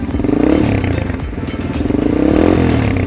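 A Motorstar Z200s motorcycle engine with its stock exhaust pipe runs close and loud, a steady throbbing idle that swells slightly in pitch twice, with no talking.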